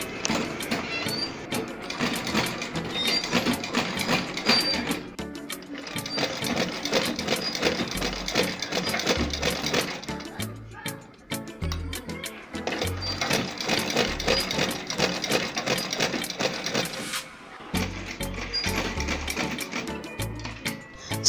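A sewing machine runs in bursts of rapid, even stitching as it sews net ruffles onto a dress, with brief pauses between runs and soft thumps near the end.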